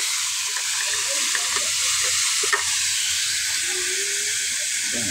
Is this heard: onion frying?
yes